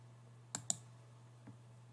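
Two sharp, quick mouse clicks close together, followed by a fainter third click, set against a low steady hum in a quiet room.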